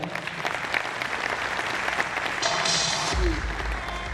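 An audience at a distributor training programme in Indore claps steadily and evenly throughout, a full round of applause with no talk over it.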